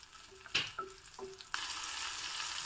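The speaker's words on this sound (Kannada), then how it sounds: "ಚೆನ್ನಾಗಿ ಎಣ್ಣೆಯಲ್ಲಿ ಹುರ್ಕೋಬೇಕು." Green chili and field beans frying in oil for a Vidhyarthi Bhavan-style breakfast: a few soft clinks, then a steady, close bright sizzle that fills the pan once the beans go in.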